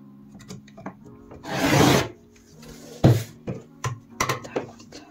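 Patchwork fabric is cut along a ruler 5 mm from a stitched seam, giving a sustained rasping rub near the start and then several short, close scraping strokes, with no talk.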